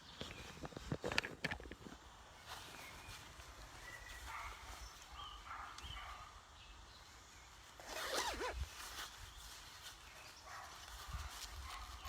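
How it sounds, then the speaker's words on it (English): A coat zipped up outdoors on a chilly day during an evening nature walk, with brief rasping zip strokes near the start and a longer zip pull around the middle, over faint outdoor background noise. "I'm just going to zip up my coat as well."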